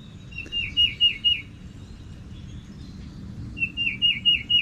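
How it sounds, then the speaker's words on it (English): Birds chirp outdoors beside a spring crappie-fishing spot, in two bursts of quick, high, repeated tweets at the start and end, fairly near, over a steady low background rumble. "Got the birds are chirping up here."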